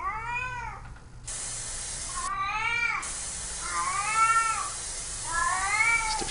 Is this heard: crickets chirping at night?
no